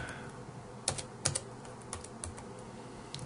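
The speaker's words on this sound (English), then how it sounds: "So we're going to type in look" Close typing on a computer keyboard, a few sharp key clacks standing out among lighter, irregular taps over a quiet background.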